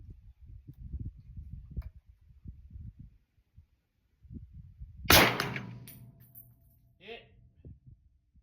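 A single Diamondback DB10 rifle shot fired at a target 75 yards out, a sharp loud crack with a short ringing tail, heard over low handling noise and a faint later impact.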